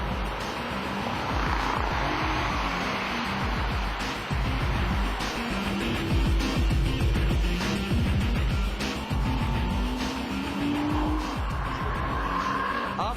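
Nissan GT-R R35 Nismo Super GT GT500 race car lapping a circuit, its loud engine roaring and shifting continuously and close, with tire noise throughout.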